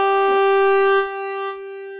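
A synthesizer tone from the Arturia Pigments preset Black Phone holds a steady, bright note with rich overtones, with a soft shifting texture swelling and fading over it for about two seconds.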